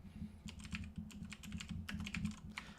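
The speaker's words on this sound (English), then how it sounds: "I'm sorry if my keyboard is really loud. It's the mechanical one" Fast typing on a loud mechanical computer keyboard, rapid clustered clacks in irregular bursts over a low steady hum, close to the microphone, with no talking.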